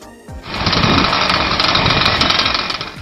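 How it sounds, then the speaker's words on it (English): A homemade airplane's engines start up with a sudden loud buzzing roar that holds steady and rough, close by and dominating, with no voices over it. "The engines roar to life"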